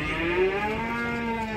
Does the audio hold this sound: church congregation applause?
no